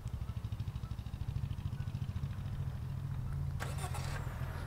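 A Honda City sedan engine starts by smart remote and settles into a steady, even idle with a low pulsing throb, close and moderately loud, with a short burst of clicks near the end.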